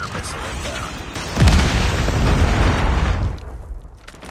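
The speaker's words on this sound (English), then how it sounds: "Friendly Predator missile inbound" A Predator missile strike lands in Call of Duty Mobile during a Team Death Match: a deep, rumbling boom erupts mid-clip and rolls on for about two seconds before fading, loud and heavy, with game voice lines around it.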